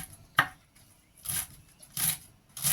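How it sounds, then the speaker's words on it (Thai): A knife chops a leafy grass into small pieces for blending. Four sharp, crisp cutting strikes land at uneven intervals, close and fairly quiet, with no talking. "หั่นเล็ก ๆ ก่อนค่ะ หั่นหญ้าเอ็นยืด หั่นเล็กๆแบบนี้"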